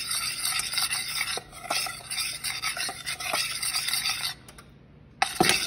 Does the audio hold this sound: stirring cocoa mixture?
yes